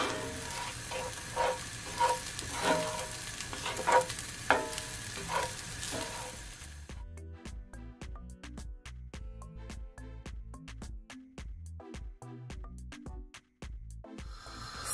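Fried rice sizzles loudly in a hot pan as it is stirred and scraped, with the frying hiss fading partway through to sparser clinks and scrapes.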